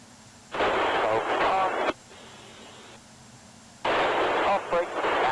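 Jet engines of the FSX Blue Angels aircraft spool up in a video game, two loud bursts of broadband roar separated by a quieter whooshing lull, with radio-style chatter mixed in.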